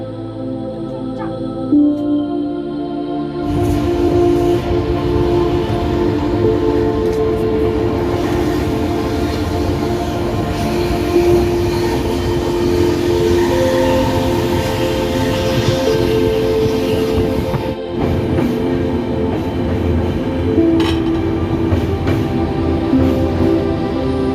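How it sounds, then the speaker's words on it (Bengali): A train running through North Bengal near New Mal Junction and Chalsa, with a loud sustained horn blast over a steady rolling rumble and rhythmic clatter of wheels, close and continuous. "এখন এই মুহূর্তে ট্রেনটি দাঁড়িয়েছিল"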